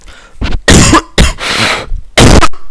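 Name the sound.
cough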